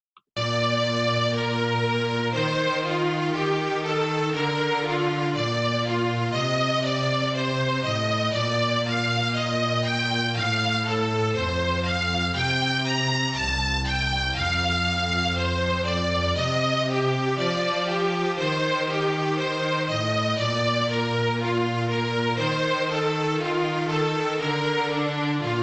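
Melody A from a music-theory accompanied-melody exercise, played back through Finale notation software as an even, continuous synthesized tune with accompaniment, steady and moderately loud throughout.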